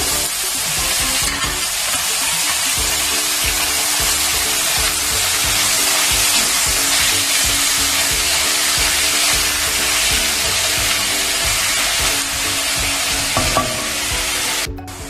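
Two to three medium chopped onions sautéing in a pan over low flame for chicken curry, a loud continuous sizzle with stirring scrapes throughout, close up.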